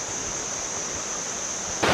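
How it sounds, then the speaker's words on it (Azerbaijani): Maya waterfall near Chiang Mai, Thailand, roars as a steady, loud broadband rush of falling water, constant throughout, with a slightly louder surge at the very end. "Və ən sonunda gəldim, çıxdım o şəlaləyə."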